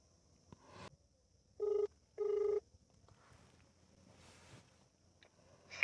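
Two short electronic telephone rings sound in quick succession against a quiet room background, followed by faint rustling.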